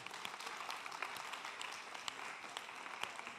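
Applause for a team standing up at a Climathon closing ceremony in Turin, a faint, distant patter of clapping from a modest crowd, steady throughout with a few sharper individual claps standing out.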